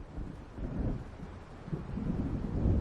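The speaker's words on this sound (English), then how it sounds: "It seems there's a storm coming." Distant rolling thunder from a storm approaching across the water in the Alan Wake video game. It is a low, continuous rumble with wind-like noise, swelling slightly toward the end.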